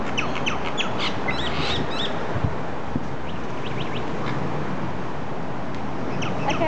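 Birds squabbling and squawking, with harsh repeated calls and scattered chirps over a dense, steady background of noise at moderate distance.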